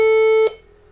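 An HP all-in-one desktop computer beeps after an incompatible RAM module is fitted: a single loud, pure electronic tone lasting about half a second, then cutting off into a low hum.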